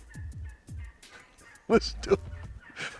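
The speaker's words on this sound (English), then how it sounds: "And we called in some turkeys." Wild turkeys gobble in the woods: two loud, close gobbles ring out in the middle, with softer calls and rustling before and a fainter call near the end.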